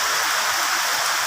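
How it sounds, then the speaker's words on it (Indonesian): Steady heavy rain, a dense unbroken hiss of broadband noise that holds at an even level from start to finish, with wind mentioned alongside and no speech over it. "Hujan deras, ya."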